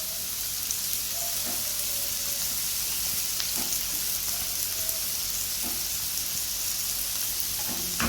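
Mustard seeds and spices fry in a pan for a Sri Lankan cheese koththu, making a steady hissing sizzle with scattered small pops and crackles, close and unbroken, with no speech.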